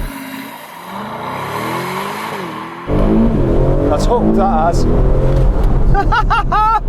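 A sports car rated at 3.6 seconds from 0 to 60 launches hard from a standstill in race-start mode. The engine roar jumps loudly and climbs through rising gear pulls while someone talks over it from inside the cabin.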